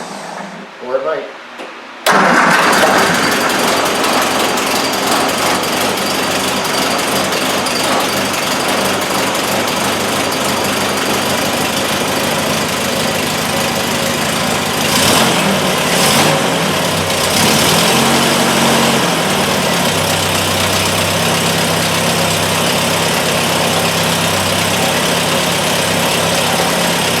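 A restored Roundtail motorcycle engine fires up after a short cranking moment and settles into a loud, steady idle through its exhaust, with a few revs partway through, heard close up.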